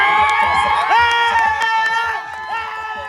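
A crowd at a cricket match cheers and shouts excitedly, many voices overlapping with whoops and rising calls, loud and continuous.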